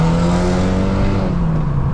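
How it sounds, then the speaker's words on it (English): A BMW G20 330i with its exhaust valves open holds a loud, close, steady drone that sags slightly in pitch, with rough low burbling underneath and no talk. "so the car burbles like at the slightest tap of the gas"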